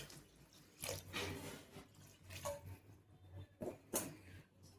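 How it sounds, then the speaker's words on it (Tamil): Water pours and splashes into a pan of sizzling chilli-powder masala for sardine curry in a few short bursts, quiet and close, with faint kitchen clatter. "இந்த டைமில் நம்ம மசாலா வேகத்துக்கு தண்ணி சேர்த்துக்கலாம்."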